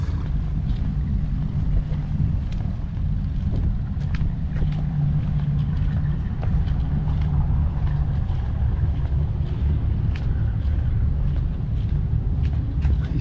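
A vehicle engine idles steadily in the early morning outdoors beside trailers, a low constant rumble with some wind buffeting across the whole stretch, no talk.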